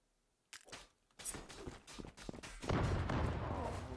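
Explosions and gunfire in a video game match: after a quiet start, several sharp bangs and thuds lead into a loud rolling blast with sustained rumble, close and heavy.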